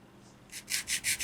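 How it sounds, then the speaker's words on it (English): A sanding stick rubs back and forth to take a moulding nub off a plastic part on an ICM Model T ambulance kit, giving a soft hiss and then four steady, close rasping strokes. "let the sander just take that nub away"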